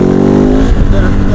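A Kove 450 Rally motorcycle with a Stage 2 power upgrade accelerates hard in second gear toward about 4,000 rpm, its loud, close engine note climbing briefly.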